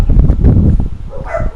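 A dachshund barks outdoors on a blowy, chilly day, giving a quick run of loud, close barks and yips with a brief whimpering note near the end.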